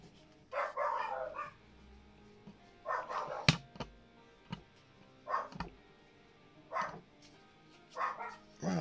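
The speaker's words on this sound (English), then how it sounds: "two dogs that have now decided to bark." Two dogs barking in separate bursts, close by and fairly loud, with short pauses between the volleys and a few sharp single barks.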